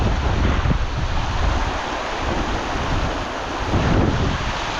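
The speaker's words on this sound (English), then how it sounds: "The wind's blowing the rain right in my face" Strong gusting wind buffets the microphone beside Gayle waterfall as rain is driven along, a steady loud roar with rumbling low gusts throughout and no voices.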